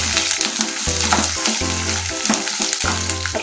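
Curry leaves frying in hot oil for mango rice, loud continuous sizzle and crackle close up, with bursts of stirring, no talking.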